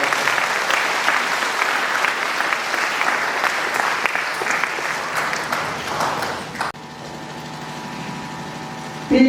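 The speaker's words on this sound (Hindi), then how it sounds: "आइए हम एक बार जोरदार तालियां देकर हमारे बिशप का" A church youth day gathering gives the bishop a loud, sustained round of applause from a large crowd that cuts off abruptly, leaving a quieter hum with a faint tonal drone.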